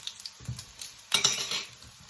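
Spicy cabbage balls are turned over in a frying pan, with a faint sizzle, a few soft utensil clinks and a brief louder scrape as they flip.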